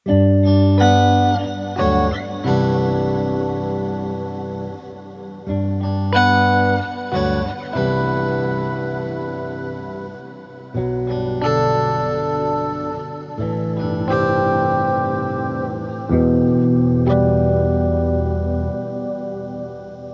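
Clean electric guitar chords played through a Pitch Fork pitch-shifter pedal ring out with a shimmering, pitch-shifted octave layer and lush reverb wash, in sustained phrases with brief gaps.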